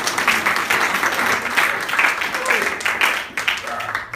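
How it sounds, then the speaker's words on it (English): An audience applauds a woman at a clinical hypnosis session for smoking cessation, a steady round of clapping that is fairly loud and continuous, with voices mixed in. "Biggest round of applause, please, for this lady."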